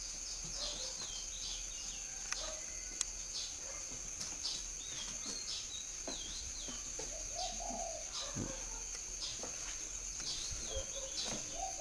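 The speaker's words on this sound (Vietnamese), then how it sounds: "để các bạn nhận dạng chim cu gáy" Spotted doves cooing in a rural setting, soft repeated coos at a distance mixed with chirping from other birds over a steady, high-pitched insect drone, with no one talking.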